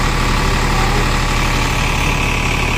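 Farmtrac 45 tractor, a 48 HP model fitted with a 7-foot rotavator, idles with a steady, dense diesel rumble and constant vibration, close and loud throughout with no talk.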